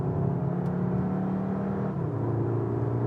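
A CUPRA Formentor 310 accelerating hard, a steady engine drone with a rising whir and one gear-change dip partway through, heard from inside the car without talk.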